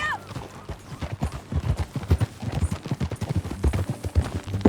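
Horse hooves clip-clop in Red Dead Redemption 2, a steady trotting rhythm of close, distinct hoofbeats running throughout, with a short whinny at the start.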